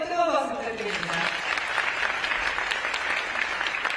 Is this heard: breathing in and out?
no